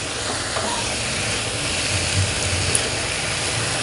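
Noodles being tossed and mixed in a hot pan during stir-frying, a steady close sizzle with soft scraping, alone without talk.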